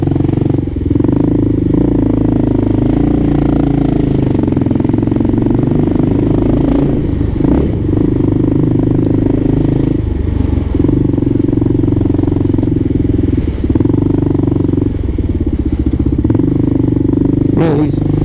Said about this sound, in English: the bike's slowing down as soon as I lay off the throttle